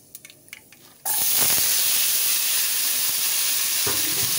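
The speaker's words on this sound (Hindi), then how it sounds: "एक पैन में हम ऑयल डाल के बघार का सामान डाल देंगे और धुले हुए आलू भी इसमें डाल देंगे" Washed potatoes and tempering spices dropped into hot oil in a pan, a sudden loud sizzle that bursts in after a few light clinks and keeps hissing steadily, close and continuous.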